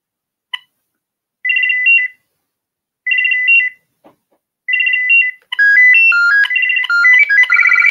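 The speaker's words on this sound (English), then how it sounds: "The bass ringtones on this are the same as the ones on the everyday phone." A landline telephone plays its bass ringtones, loud and close: short repeated electronic ringing bursts separated by silences, then a denser, continuous melodic ringtone pattern toward the end.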